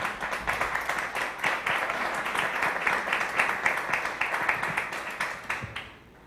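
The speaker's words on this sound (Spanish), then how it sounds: "un aplauso por favor para Lolkin Castañeda." Audience applause at a political roast, moderately faint but steady, with quick dense clapping for about six seconds before it trails off.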